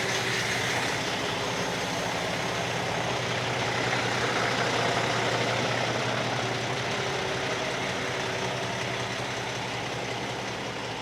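A feed delivery truck nicknamed the Green Goblin runs its engine in a steady, loud, unbroken drone with a low rumble, heard alone without talk.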